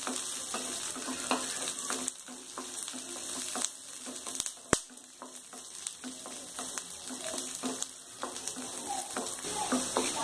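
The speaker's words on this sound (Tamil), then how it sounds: "பூண்டோட பச்சை வாசனை போகிற மாதிரி நல்லா கோல்டன் ப்ரௌனாக வதக்கணும்" Garlic sautéing in a pan for a spicy garlic chutney, sizzling steadily close up with frequent stirring scrapes and small clicks running throughout.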